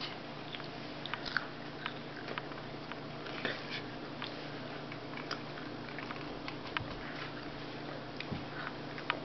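Crunchy food bitten and chewed close by, a dense run of small crisp cracks and crunches that stays quiet and steady, with no talking.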